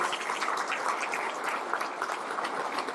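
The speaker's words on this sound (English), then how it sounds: "Give him another round of applause for everything he's done for you." Sustained audience applause fills a banquet hall at an annual labor-council dinner, a steady dense clatter of clapping with no voices over it, moderately loud throughout.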